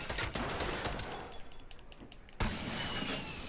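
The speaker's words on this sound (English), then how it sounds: "Okay, he's shooting. He's shooting in front of me." Rapid bursts of gunfire in Fortnite, a dense crackling volley that briefly thins out and then resumes sharply, heard fairly quietly.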